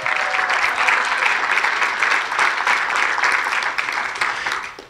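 An audience at a Pickleball Hall of Fame 2019 induction ceremony claps steadily, a full, even burst of applause from a large room that continues for several seconds before fading.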